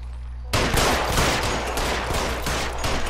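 Gunfire in L.A. Noire erupts after a short quiet lead-in, a loud rapid volley of shots that keeps going as sustained, overlapping bursts.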